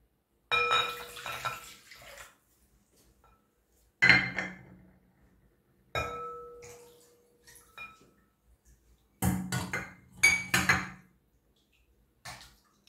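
Cocoa and milk are stirred together in a pot in several separate bursts of metallic clinking and scraping, each lasting a second or two, with quiet gaps between them.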